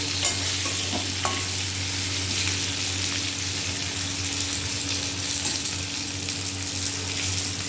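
Vegetable stalks fry in a pan with a steady sizzle and occasional scraping and stirring, continuous and close, no voices.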